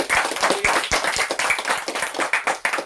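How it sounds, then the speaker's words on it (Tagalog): Steady, fast clapping from many hands, loud and continuous, like a church congregation applauding together during a preaching service. "Yung malakas na palakpak sa Panginoon"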